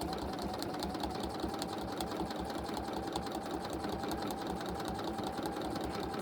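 A sewing machine quilting appliqué sections runs continuously at a fast, steady pace, its dense rapid needle clatter and motor hum close and loud with no talking over it.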